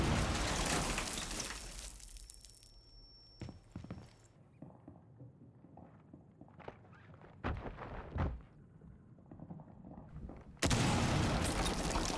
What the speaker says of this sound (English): This is what it sounds like from the other side of a wall when hot breaching.